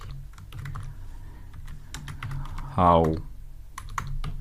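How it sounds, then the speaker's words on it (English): Keys clatter on a computer keyboard in a quiet room, a steady run of soft typing with a brief spoken word partway through. "So let's type"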